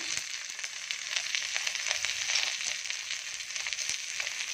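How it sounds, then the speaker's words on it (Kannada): Green chilli, onion, curry leaves, ginger and garlic frying in hot oil in a pan make a steady close sizzle with faint crackles and the odd stir. "ಇವಾಗ ಹಸಿಮೆಣಸಿನ್ಕಾಯಿ, ಈರುಳ್ಳಿ, ಕರಿಬೇವಿನ ಸೊಪ್ಪು, ಶುಂಠಿ, ಬೆಳ್ಳುಳ್ಳಿ ಹಾಕ್ತೀನಿ."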